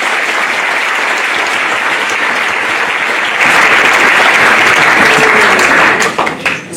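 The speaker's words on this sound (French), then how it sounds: "Merci d'applaudir." A theatre audience applauds a troupe in steady, dense, loud clapping that swells midway and continues unbroken before tapering off near the end, with no talk over it.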